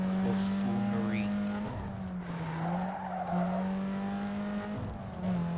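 A Corolla racing in a video game gives off a steady, close engine drone with brief tire-squeal skids, which continues without pause for several seconds.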